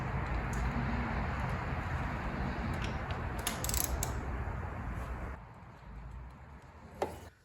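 A 21 millimeter socket wrench ratcheting on a John Deere 2210 compact tractor during a heater installation, giving rapid, continuous clicking up close for about five seconds, then quieter handling and a single sharp click near the end.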